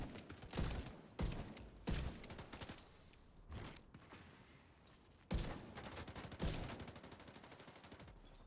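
Gunfire in The Division 2, heard as loud separate shots and short bursts with quieter gaps between them, some bright and sharp and others heavier, with no talking.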